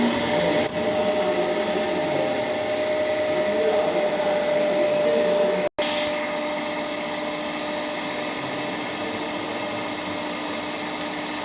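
An electric motor in a lab setup is brought up through its starter and runs with a steady, continuous whine and hum, with a brief dropout midway before the drone carries on evenly.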